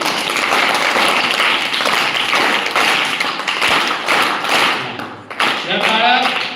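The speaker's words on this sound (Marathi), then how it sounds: "हा मग त्या पद्धतीने टाळ्या वाजवा 1 2 आणि 3" A crowd of children clapping together on a count, giving a dense, loud burst of applause that runs for several seconds before thinning briefly and picking up again, with voices mixed in near the end.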